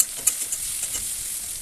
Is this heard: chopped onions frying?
yes